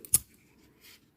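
A single crisp snip of scissors cuts off the leftover yarn on a crocheted amigurumi bear keyring, close and clear, followed by a faint soft rustle in near silence.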